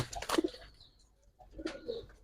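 A racing homing pigeon gives two soft, short coos close by, separated by a quiet pause.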